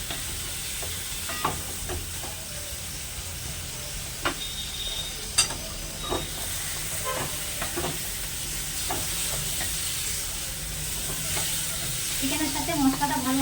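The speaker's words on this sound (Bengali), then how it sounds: "চিকেনটা দেওয়ার পর আবার ওটা নেড়ে চেড়ে নেব।" Chicken for biryani is stirred with masala in a pan over a steady hiss of frying, with scattered sharp ticks and scrapes from the spoon and bubbling that grows slightly toward the end.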